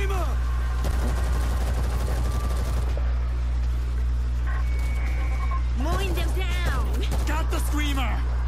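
Heavy turret gunfire in the zombie shooter World War Z rattles in dense bursts over the first few seconds, loud and close, while players talk and shout over it and the shooting later thins out.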